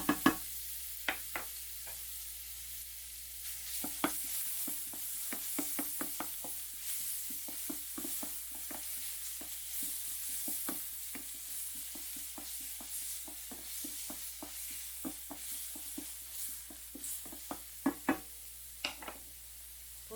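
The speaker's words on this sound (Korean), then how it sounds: "올리브유를 살짝만 돌리세요. 그리고 마늘 반 스푼을 넣고요." Garlic fries in a little olive oil as a spoon stirs it, giving a faint steady sizzle broken by frequent sharp scraping clicks and taps against the pan.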